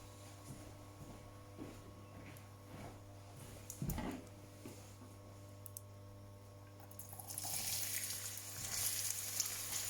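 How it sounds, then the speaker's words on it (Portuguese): Onion sizzling in hot olive oil in a pan, a steady crackling hiss with a stir-like clatter midway, growing louder and brighter toward the end. "Este é o som que devem ouvir da reação do azeite quente com a cebola à temperatura ambiente"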